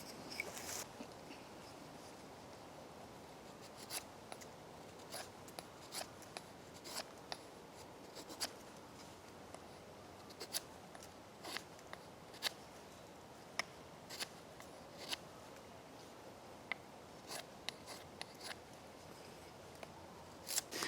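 A knife carving the corners off a wooden bow drill spindle, quiet scraping strokes with sharp irregular clicks and shaves repeating closely throughout.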